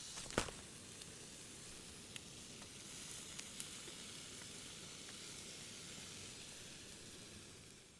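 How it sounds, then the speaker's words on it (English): Onions and burgers fry on a camp stove at a tarp and bivy camp in the Scottish Borders, giving a steady, broad sizzle and hiss with a few faint clicks, heard alone without voices. "I'm just frying the onions with the burgers."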